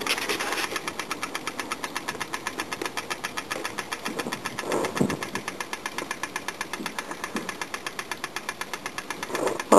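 Small model steam engine running on its first run in decades: a steady, fast rhythmic chuffing and mechanical clatter that repeats evenly and sits close and moderately loud, with no talking.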